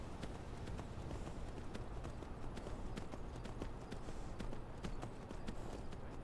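Horse hooves clop steadily uphill in Skyrim, a quick, even rhythm of hoofbeats over a constant low rumble, close and continuous.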